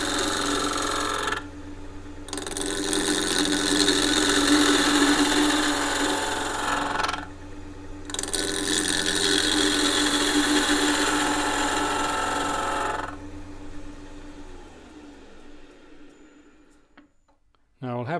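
Wood spinning on a lathe while a turning tool cuts it, a loud whirring, rasping scrape in long sustained passes broken by two short pauses, then the machine winding down; steady motor hum persists underneath.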